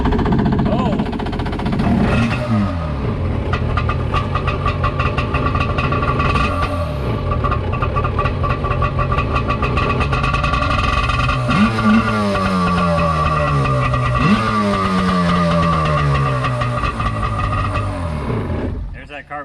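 A 90s Yamaha two-stroke jet ski engine runs and revs out of the water, its buzzing pitch rising and falling in several sweeps. People talk over the noise.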